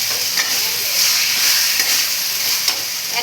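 Chopped tomatoes go into a spice mix frying in oil for a mutton curry, a loud, close, continuous sizzle with hiss and faint stirring taps.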